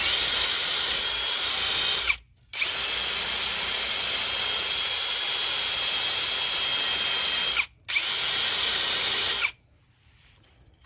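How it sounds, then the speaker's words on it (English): A copper wire brush, likely power-driven, scours the brake pad face on a 2016 Smart fortwo 451, a loud, steady high-pitched whirring scrub broken by two brief pauses before stopping near the end. "Now I'm going to clean pad face, the pad surface. This copper brush is not going to harm the rotor."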